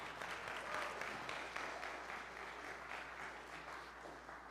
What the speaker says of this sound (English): If you want to clap for that, you can.